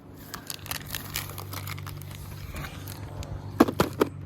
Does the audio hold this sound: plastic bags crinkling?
yes